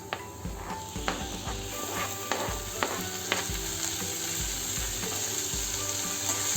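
Chopped tomatoes frying with golden onions in a pan for dal tadka, a steady close sizzle with intermittent stirring clicks and scrapes throughout, no voices.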